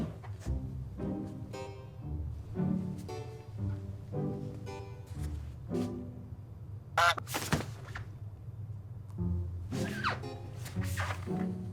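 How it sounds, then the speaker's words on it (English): Repeated loud honks from a goose, irregular bursts spaced a second or two apart, close by and with no voices. "am I going crazy or is something honking? It's my new pet goose, Theo."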